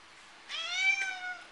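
A house cat lets out a single drawn-out meow, rising then tapering, close and clear against a quiet room.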